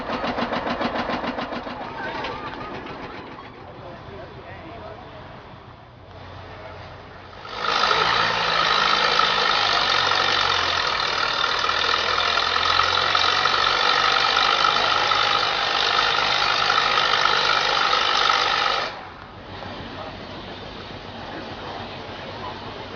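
Tractor engines idling at the Freiburg Fair tractor show, a steady mechanical drone with a louder, brighter engine surge through the middle before it drops back to a lower idle.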